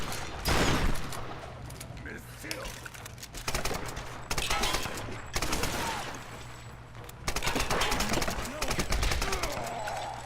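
Rapid gunfire from the 2013 Tomb Raider video game crackles in loud, dense bursts separated by short breaks, mixed with game effects and a voice talking over it.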